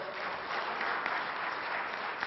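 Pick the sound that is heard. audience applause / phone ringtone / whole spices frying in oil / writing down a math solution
audience applause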